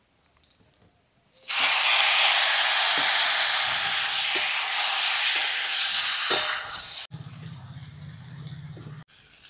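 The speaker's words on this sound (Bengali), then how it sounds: "এবার দিয়ে দেবো সেদ্ধ করে রাখা আলু আর কচু।" Boiled potato and taro pieces go into a hot pan with dried chillies, bay leaf and crushed garlic in a village kitchen. A loud sudden sizzle bursts up and holds for several seconds, then drops to a low simmering rumble.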